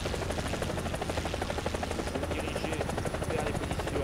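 Helicopter in the video game War Thunder, a loud, close, continuous rotor thump with a rapid regular beat and an engine whine underneath, steady throughout.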